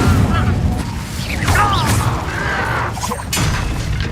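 A fire spell goes off in Hogwarts Legacy with a loud, sustained whooshing burst and crackling blast layered over dense game effects, with rising and falling tonal swooshes around the middle.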